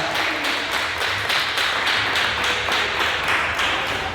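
A church congregation claps together in a steady, rhythmic beat, many hands striking in unison with loud, regular pulses and no talking.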